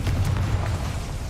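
A Confringo spell blast in Hogwarts Legacy lands as a brief, dull low boom with a rumbling tail, loud and close for about a second.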